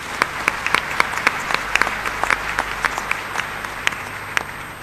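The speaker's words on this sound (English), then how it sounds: "I think you should give him a clap" Crowd at a gender and finance summit in Africa claps for an honoree: sharp, scattered hand claps popping irregularly over a low room hum for several seconds, no speech on top.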